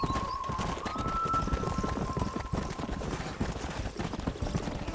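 A horse gallops in the video game Red Dead Redemption, with rapid rhythmic hoof clip-clops running steadily throughout and a thin high tone drifting briefly across the start.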